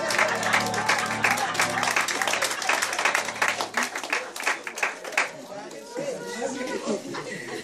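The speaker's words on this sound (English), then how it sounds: "If you want to clap." An audience at a motivational talk claps together in a dense, sustained patter that thins toward the end, with voices and chatter mixed in.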